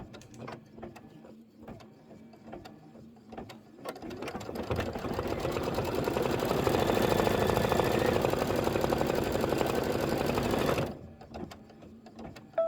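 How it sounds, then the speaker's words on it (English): A sewing machine runs a placement stitch for an ice cream bar quilt block, starting with light intermittent clicks, then settling into a steady, loud continuous whir for several seconds before stopping. "Okay, placement stitch."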